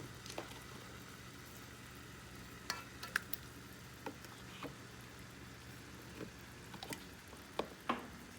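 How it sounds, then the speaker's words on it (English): Minced garlic fries in melted butter with a faint, steady sizzle, dotted with soft ticks and a few sharper clicks as it is stirred, with no voices. "this has been sizzling for about 2 minutes"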